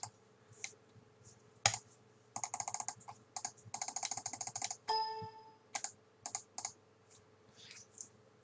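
Computer keyboard typing and mouse clicking at a desk during software setup, heard in close, irregular bursts of rapid keystrokes separated by short pauses, with a few sharper single clicks and no talking.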